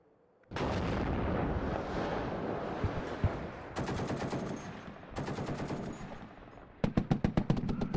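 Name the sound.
mortar artillery fire in the video game WARNO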